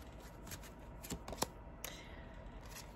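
Angel tarot cards being shuffled by hand close up: quiet papery riffles and flicks with a few sharp snaps, irregular and soft.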